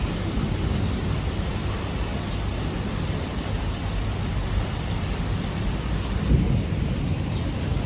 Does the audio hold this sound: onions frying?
no